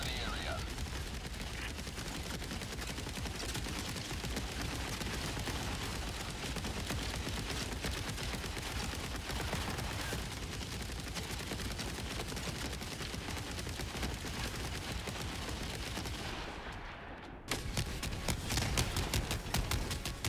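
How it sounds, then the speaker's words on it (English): Gatling Barrage stratagem from Helldivers 2 pounding away in a dense, continuous roar of rapid gunfire that holds steady for about seventeen seconds, cuts out briefly, then resumes with a louder, harsher burst. "I also love the new Gatling Barrage sound effects."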